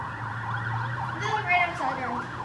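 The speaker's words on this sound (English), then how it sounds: "siren." An emergency siren wails continuously outside a pizza restaurant, its rising and falling tone moderately loud and swelling as it passes nearby over low street rumble.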